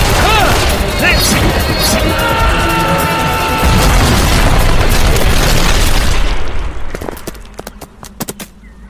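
Gunfire and explosions from an audio drama battle: dense, loud booms and crashes run continuously for most of the stretch, then give way to a few scattered, sharper pops and bursts as the fighting dies down, with voices mixed in.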